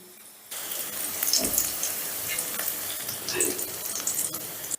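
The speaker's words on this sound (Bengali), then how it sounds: "দেখো চিকেনটাকে আমি বেশ ভালো মতন ভেজে নিয়েছি" Chicken pieces frying in hot oil for mixed fried rice, a continuous close sizzle that starts abruptly after a brief quiet moment and carries on with small bursts and crackles.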